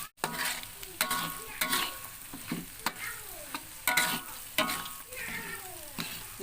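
Jengkol fries in a pan under a steady sizzle while a utensil stirs and scrapes, sharp clinks and knocks repeating every second or so, close and fairly loud with no talking.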